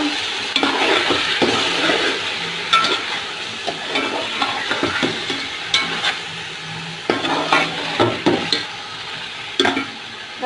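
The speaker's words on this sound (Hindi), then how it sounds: "अब हम इसके अंदर टमाटर का पेस्ट ऐड कर देते हैं, इसको मिक्स करते हैं।" Tomato paste being stirred into frying chicken pulao in a pot, with close scraping spoon strokes and clinks over a steady sizzle, repeating irregularly throughout, with no voices.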